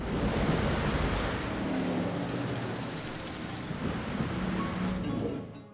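Heavy rain pours down steadily as a dense, even hiss of countless drops, loud and close, with no breaks and no voices until it fades slightly at the very end.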